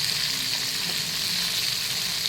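Vam fish fries on its side in hot oil in a pan, a dense, loud, even sizzle and crackle held close throughout the short stretch with no voices.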